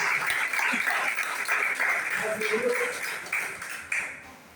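A church congregation claps hands together in steady, rhythmic applause that fills the room, with a voice talking over the clapping throughout.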